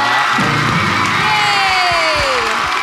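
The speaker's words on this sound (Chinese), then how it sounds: "掌声欢迎！" A studio audience at a Taiwanese TV variety show bursts into loud, continuous cheering and applause with excited shouts and whoops, close and filling the whole moment.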